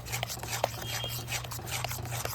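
Palm-fruit dough for taler pitha being kneaded in a kadai, a soft, continuous rubbing and squishing with small irregular slaps, close and quiet.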